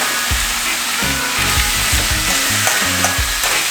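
Ground turkey for a turkey hash fries loudly in a pan while being mixed and broken up, a steady close sizzle under repeated scraping strokes of the spatula, with no talking.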